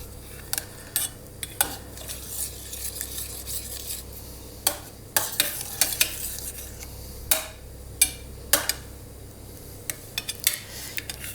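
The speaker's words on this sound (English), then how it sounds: "just as the butter is starting to melt, you can break up the bigger chunks a little bit" Butter melts in a pan while a utensil breaks up the chunks, giving repeated close metallic scrapes and clinks over a faint sizzle.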